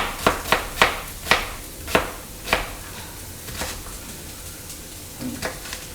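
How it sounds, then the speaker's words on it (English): Onions hit a hot pan in a run of sharp, crackling bursts, several quick hisses in the first few seconds that settle into a lighter, scattered sizzle with occasional pops, heard close and with no talk over them. "let's get some onions in there before I start crying"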